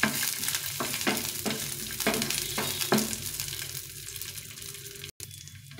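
Food fries lightly in a pan during carrot halwa preparation, giving a steady sizzle. Regular scraping strokes from a spatula come first, then the frying continues alone.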